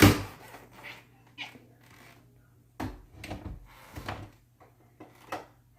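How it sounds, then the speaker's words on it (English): A house cat scratching and pawing at a bedroom door from outside, trying to get in: scattered bursts of scraping and soft knocks, close and fairly quiet, separated by pauses. "The one that keeps on acting like a weirdo, scratching at my door, trying to get into my room"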